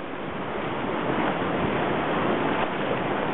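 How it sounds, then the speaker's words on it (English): Ocean surf rolls onto a beach in a steady, loud, continuous wash of breaking waves, with wind rushing across the microphone and no voices. "The waves are the same size all over"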